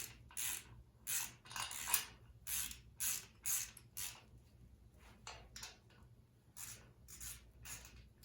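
A wrench snugs down the water pump bolts on a 350 small-block Chevy, making a faint, close run of short rhythmic ratcheting strokes with brief gaps between them. There is no speech.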